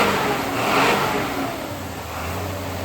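A car engine after a timing adjustment, running at a steady mid-pitched drone with a gentle rise and fall in revs, heard close and continuous with no voices.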